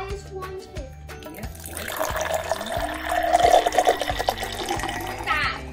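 Liquid poured from a container into a measuring cup during a home science experiment, a steady splashing stream that rises in pitch as the cup fills, under a repeating beeping tone and faint voices.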